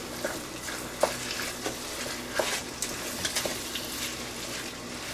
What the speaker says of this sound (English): now we're going to stir all this in